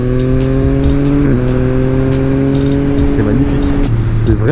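A Yamaha MT-09 A2 with an aftermarket exhaust thrums loud and steady, its three-cylinder note dipping and climbing between gear changes, with a voice talking over it.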